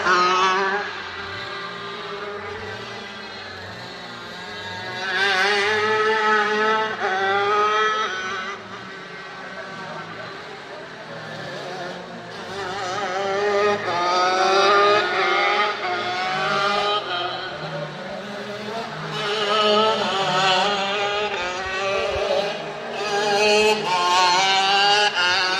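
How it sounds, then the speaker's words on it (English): 80cc shifter karts race at the IKF Grand Nationals, their high-pitched two-stroke engines buzzing and revving continuously as several karts rise and fall in pitch while passing nearby. "Let's just listen to the engine sounds."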